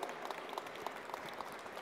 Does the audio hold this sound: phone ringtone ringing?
no